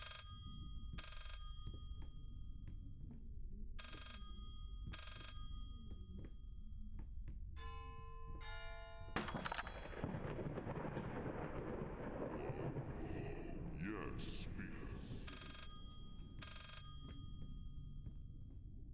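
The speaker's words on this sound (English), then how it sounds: "I wanted to answer the phone." A telephone rings repeatedly in the Layers of Fear horror video game, bursts of ringing recurring over a droning, rumbling ambient background with clattering noises in the middle.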